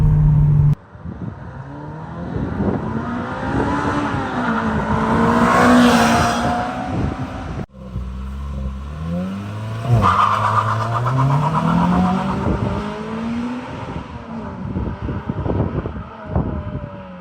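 A Toyota Corolla T Sport with the 1.8 litre 2ZZ-GE engine revs hard and loud from close by, two long rising pulls with a brief break between them and no talking.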